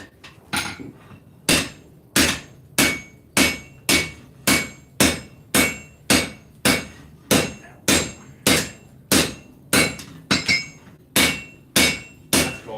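A hammer strikes hot steel on an anvil during swordsmithing, ringing out in a steady series of about twenty loud, evenly spaced metallic blows at close range.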